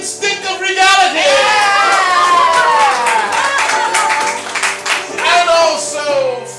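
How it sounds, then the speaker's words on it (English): Theater audience clapping and whooping during an improvised Broadway-style musical performance, bursts of applause mixed with singing voices and cheers. "Everyone applaud."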